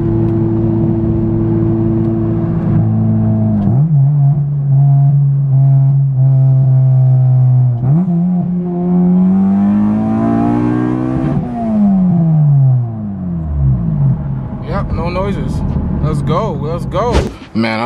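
A modified car drives and accelerates hard, its engine revving up through rising and falling pitch sweeps with gear changes, loud and close, ending in a burst of higher whine and rattle.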